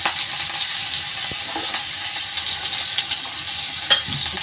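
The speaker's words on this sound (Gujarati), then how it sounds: "પછી લીલા મરચાં નાખીશું." Green chilies dropped into hot oil already tempered with mustard seeds and asafoetida for a traditional Sabarkantha dal, giving a loud, steady, close sizzle and frying hiss with faint stirring clinks throughout.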